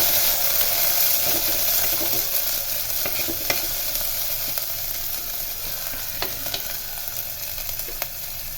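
Onion, garlic and ginger frying and sizzling steadily in a pan, with occasional clinks of a stirring spoon against the metal, a continuous close hiss with no talking.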